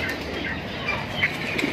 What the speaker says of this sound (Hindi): ये हमारे कबूतर,